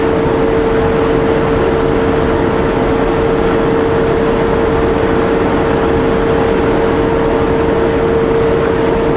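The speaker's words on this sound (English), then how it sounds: "Brakes on full, fan on, 17th gear, and it's holding it all the way down." A lightly loaded truck on the Coquihalla Highway descent holds 17th gear with engine brakes on full and fan running, producing a loud, steady, constant drone with a sustained tonal hum throughout.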